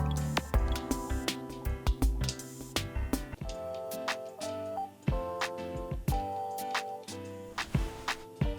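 Watering crops in a farming video game: a run of soft wet drips and squishy splashes, some in quick bursts and some spaced out, fairly quiet and close, with game chimes and no talk.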